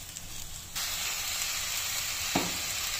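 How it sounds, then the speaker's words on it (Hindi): Chopped red amaranth leaves hitting a hot pan, a steady hiss that jumps louder when the leaves go in, followed by a brief stirring scrape against continuous close sizzling. "हम ये कटे हुए पत्ते इसमें डाल देंगे और इसको अच्छे से मिक्स करेंगे"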